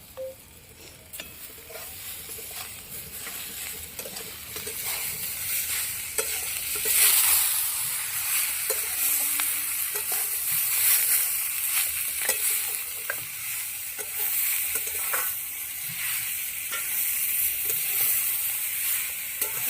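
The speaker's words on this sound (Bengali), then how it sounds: "ভালো করে ভেজে নেব ঝটকলের দাদিটা" Boiled ghetkol stalks fry in a pan with a steady, close sizzle, while repeated scraping stirs come through at an uneven rhythm from start to finish.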